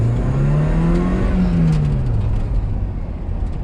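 An MG MGF with a 1.8 VVC engine revs hard in first gear, pitch climbing then falling back as the throttle eases, loud and close with no talking.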